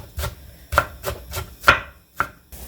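A knife chops green onion (daepa) on a cutting board in six or so firm, evenly spaced strikes, close and crisp with no talking.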